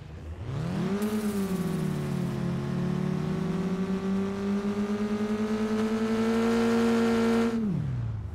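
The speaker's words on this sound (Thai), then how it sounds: "เสียงท่อใหม่" A car engine revs up and holds a steady high whine through a new exhaust in the Car Parking mobile driving game, loud and continuous for about six seconds before cutting off abruptly, with no talking.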